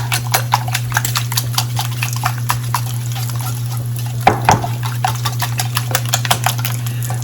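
Milk being beaten into eggs in a bowl with quick, evenly spaced clicks and taps that carry on throughout over a steady low hum, with no one talking.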